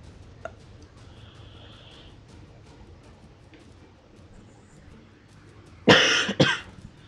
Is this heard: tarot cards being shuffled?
no